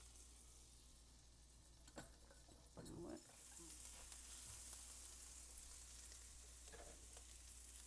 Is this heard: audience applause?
no